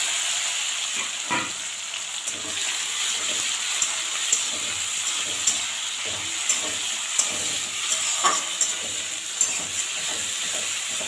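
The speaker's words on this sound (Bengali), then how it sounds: "এখন নেড়েছি পেঁয়াজ আর টমেটো।" Onions and chopped tomatoes fry in white oil with cumin in a pan, a steady close sizzle running throughout with light scraping stirs at irregular intervals.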